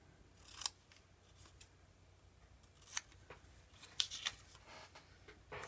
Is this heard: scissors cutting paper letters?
yes